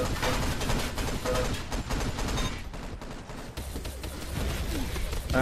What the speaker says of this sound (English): Goes down to BMXer's assault rifle